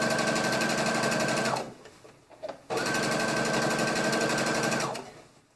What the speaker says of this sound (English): I'm going to go ahead and sew from the inner seam out